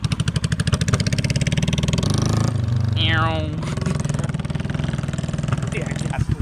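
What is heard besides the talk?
motorcycle engine running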